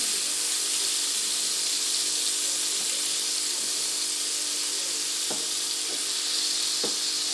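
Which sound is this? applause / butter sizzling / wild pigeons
butter sizzling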